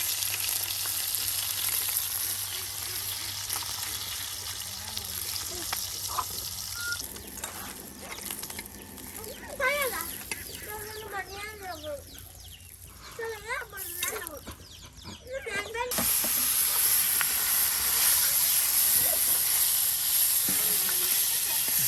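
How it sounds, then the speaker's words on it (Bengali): Loud, steady sizzle of taki fish frying in oil with a hissing roar, briefly quieter while a person talks over it, then surging back strongly. "এই যে আপনার প্রায় হয়ে গেছে আজকের গরম গরম মাছ ভাজা।"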